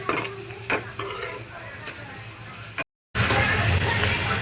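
Onions fry in a pan for a liver and petha masala, with a steady close sizzle and stirring scrapes, a brief cut to silence, then louder frying sizzle resumes.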